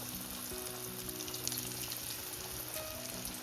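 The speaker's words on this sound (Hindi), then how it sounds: "अब इनको फ्राई करते हैं।" Kurkure momos coated in white poha bubbling in moderately hot oil, a steady soft sizzle and crackle that holds evenly throughout with no voices.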